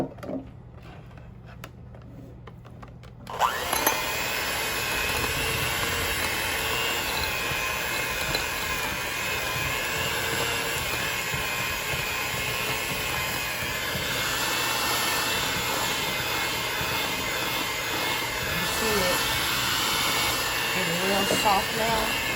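Electric mixer whipping shea butter starts after a few seconds of quiet handling and then whirs loudly and continuously at close range, with a voice talking faintly in the background.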